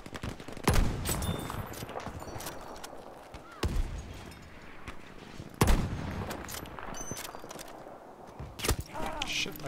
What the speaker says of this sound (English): Shit, I got sniped by a guy from the left.